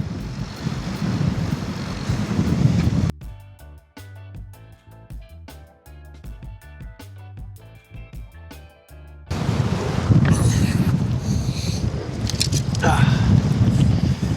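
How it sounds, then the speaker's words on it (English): Strong ocean wind batters an action camera microphone on a rough, wavy shoreline with roaring buffeting and surf. It drops out for several seconds in the middle while music plays, then returns just as loud. "It's just way too windy."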